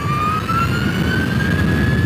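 An Energica electric motorcycle riding along, its motor giving a smooth, rising electric whine above a low, steady rumble of wind and road noise, loud and continuous with no exhaust sound and no talking.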